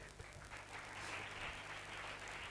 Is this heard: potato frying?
no